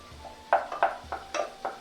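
A metal spatula scrapes and clanks against a pan while chicken fried rice is stirred, six quick rhythmic knocks over a soft background hum, close and without talk.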